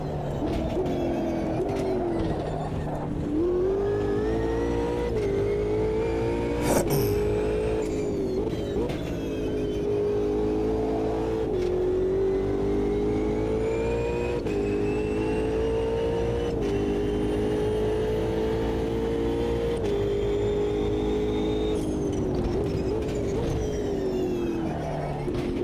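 Ginetta race car engine in the Automobilista 2 racing game, a steady high-revving drone with rising and falling pitch through gear changes, loud and continuous throughout with no talk.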